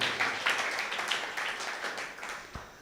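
A church congregation at a Sunday service claps in a short, moderate burst of applause, a scattered patter of many hands that stays fairly faint and tapers off within a few seconds.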